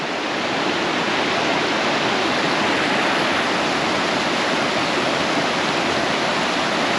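Steady, dense roar of falling water from a waterfall in the Ruby Mountains of Nevada, continuous and fairly loud with no voices over it.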